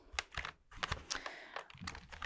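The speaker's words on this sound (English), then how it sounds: "this may look like an ordinary keyboard" Rapid typing on a computer keyboard programmed as a translator, a quick irregular run of crisp, close key clicks and taps, recorded intimately in an ASMR space-rescue roleplay with no voice over it.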